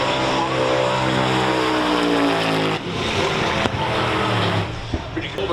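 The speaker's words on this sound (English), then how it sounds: "Jet car." A jet car launching at a drag racing event roars loudly and continuously, a harsh, powerful drone that shifts in pitch as it pulls away, with a brief dip midway.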